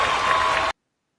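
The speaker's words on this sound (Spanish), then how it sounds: "este aplauso es para ti" An audience at a science talk claps in a brief, loud, dense burst of applause that cuts off abruptly after under a second.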